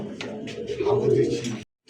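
Danish pigeons of the Pakistani bloodline, white-eyed with three red bars, cooing close by in soft low throaty bursts for under two seconds, with a voice talking over them.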